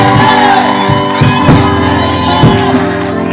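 A church congregation raises a loud, sustained mass of shouting and cries that fills the whole clip, with overlapping voices and a few sharper peaks rising above the crowd.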